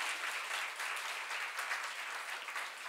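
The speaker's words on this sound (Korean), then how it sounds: "이걸 믿는 사람만 박수 치세요." Steady clapping fills a church congregation during a Korean sermon, a continuous, fairly even burst of many hands with no voices over it.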